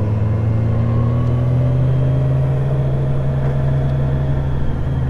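A motorcycle ridden hard on Mt. Hamilton Road gives a loud, steady engine drone with a strong low hum and faint higher tones that hold evenly throughout, with no talking.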